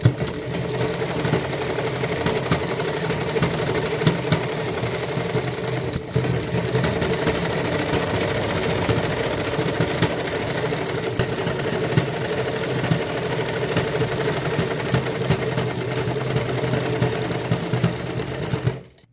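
A sewing machine stitches lace around the hem of a ladies' kurti, running steadily and loudly for nearly twenty seconds with an even mechanical whir and rapid needle chatter, no voices.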